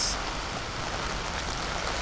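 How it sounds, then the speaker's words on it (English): Heavy rain pours onto an astroturf sports field during an under-16 boys' match, a dense, even hiss that fills the air without a break. "we have a lot of rain coming down"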